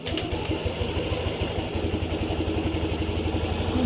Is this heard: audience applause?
no